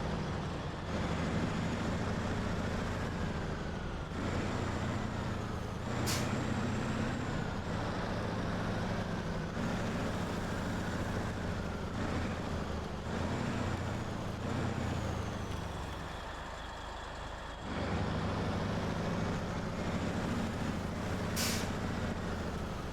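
In the video game SnowRunner, a Pacific P16 truck hauling a big trailer drones along with a steady, heavy engine rumble, interrupted by sharp hissing air-brake bursts.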